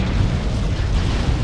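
A loud, sustained explosion rumble from a shooter video game, dense broadband roar filling the whole moment without clear breaks.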